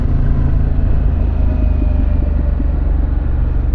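A Harley-Davidson Pan America motorcycle idles close by with a steady, loud, deep exhaust rumble that does not change, with no talking over it.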